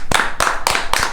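A studio audience claps for a podcast guest, the applause coming in four quick, evenly spaced bursts of hand claps over about a second, close and fairly loud with no voices over it.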